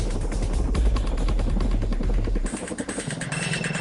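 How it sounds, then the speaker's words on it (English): A CH-47 Chinook heavy-lift helicopter with a deep, rhythmic rotor thumping and engine drone that is loud and close, then thins out and wavers partway through. "The CH-47 Chinook provides heavy lift capability, hauling supplies,"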